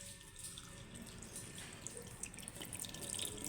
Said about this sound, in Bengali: চোখ মুখ ধুয়ে দেবো, দাঁড়াও ওখানে।